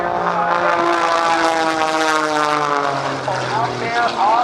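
At a military airshow, a propeller aerobatic airplane flies an inside octagon loop, its engine droning loudly and continuously as the pitch slowly slides and shifts through the maneuver.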